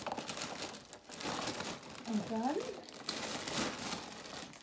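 Plastic gift bag from an Advent calendar crinkling and rustling close by, broadband crackles spread through the clip under a woman's German speech.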